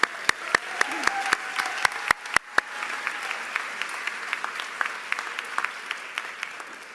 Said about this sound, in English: Can you give a big round of applause again?